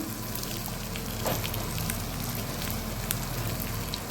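Egg masala frying in a pan on a gas stove gives a steady, close sizzle and crackle with scattered pops, continuous throughout and with no talk over it.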